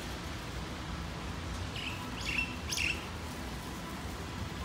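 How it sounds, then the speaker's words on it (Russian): A nightingale sings among the pedestrian alleys of an Almaty park in Kazakhstan in June, giving three short, bright chirps in quick succession at moderate distance over a steady low outdoor rumble, with no voices. "Соловей."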